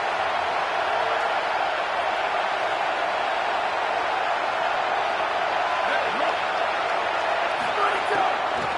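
A college football video game's home stadium crowd roars in a steady, dense wall of noise on a defensive third down, sustained and unbroken throughout.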